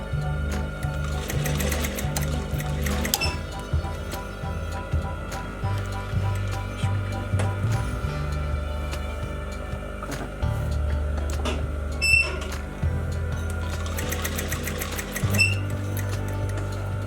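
A sewing machine stitches a seam pocket, running in rapid mechanical bursts with steady ticking and clattering, pausing briefly and restarting; a voice can be heard faintly under it.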